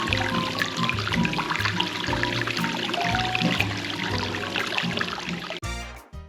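Hot spring water pours steadily into a free-flowing outdoor bath at Naruko, a close, continuous splashing trickle that ends in a brief burst of noise.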